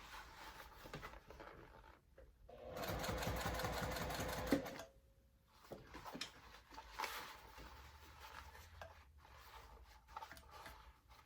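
A sewing machine stitches fabric in one loud, steady run of rapid needle strokes lasting about two seconds, with quieter handling and shuffling of fabric before and after.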